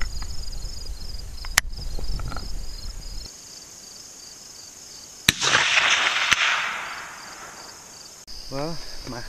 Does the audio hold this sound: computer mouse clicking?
no